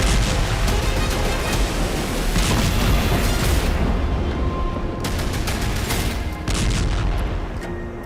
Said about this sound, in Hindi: राजधानी कीव से लेकर सीमा के करीब सूमी तक धमाके।